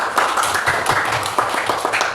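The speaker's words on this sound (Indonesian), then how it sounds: "Oke, tepuk tangan." Students in a class break into short applause, a dense, steady patter of many hands clapping close by for a couple of seconds.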